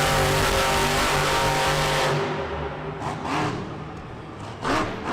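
A Kraken monster truck engine roaring during a Monster Jam freestyle run in St. Louis, a loud rumbling drone that drops off midway, followed by a few fainter revving bursts.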